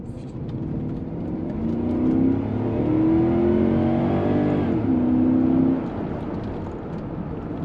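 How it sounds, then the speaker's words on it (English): A 1997 Cadillac Seville SLS V8 engine revs up and pulls hard, its pitch climbing through the gears, heard from inside the car with road noise underneath. "Yeah, motor makes good power, sounds good, feels good."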